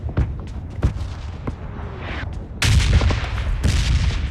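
Several sharp blasts and booms go off in quick succession in PUBG Mobile, with a heavier, louder grenade explosion rumbling in midway and lingering as dense crackling noise.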